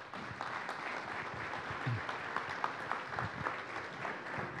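Audience at a lecture-style gathering gives a steady round of applause, moderately distant and even, with scattered sharper claps standing out, no voices over it.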